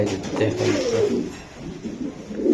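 Racing pigeons coo close by, low throaty rolling calls repeating and overlapping.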